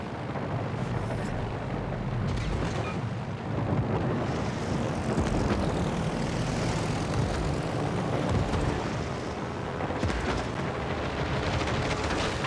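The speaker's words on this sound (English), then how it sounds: "so we can keep our planes up in the air for a little bit longer" Carrier aircraft engines drone steadily in World of Warships: Legends, a loud continuous propeller roar with rumbling battle noise and occasional booms mixed in throughout, no voices.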